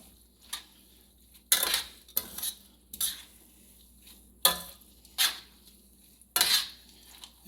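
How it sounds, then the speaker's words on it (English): Spaghetti carbonara being stirred in a pot, with a utensil repeatedly scraping and clinking against the metal in irregular bursts separated by quiet gaps, close and fairly soft, with no talking. "You got to keep on stirring this."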